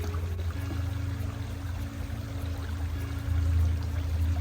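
Dishes being washed in a mountain creek, with steady running water and pouring sounds, close and continuous, no voices.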